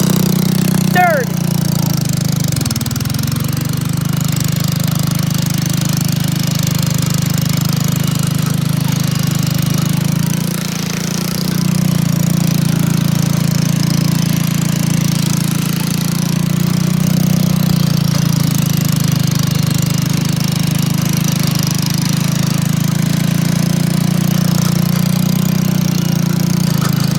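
A homemade tractor contraption's engine drones steadily in third gear, a loud, continuous low hum with a brief dip partway through.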